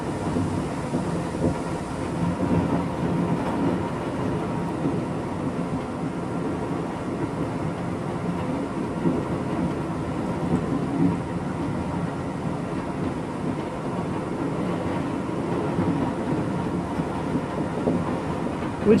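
A train rolls along in a snowy setting in the simulation game Trains, giving a steady, continuous low rumble with even loudness throughout and no distinct events.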